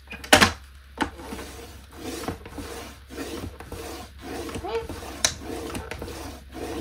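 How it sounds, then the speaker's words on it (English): A scoring blade is drawn across paper for a trifold folio mini album. A sharp scrape at the start is followed by repeated close, raspy rubbing strokes with small clicks between them. "So I'll bring my scoring blade in, and I'm gonna score this at 1/2 inch."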